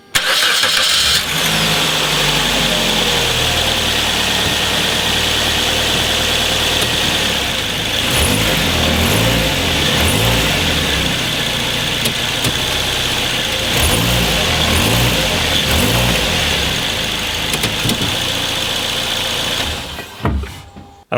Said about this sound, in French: je vais passer la marche arrière, et je vais, tout en freinant, accélérer 3 fois